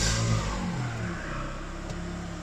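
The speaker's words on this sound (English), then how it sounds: "we're going to do some testing with a warmed up engine" Warmed-up engine of a 2001 Honda Odyssey with about 216,000 kilometres, a close, steady engine note that drops from a higher rev to a lower settled hum, heard alone without talk.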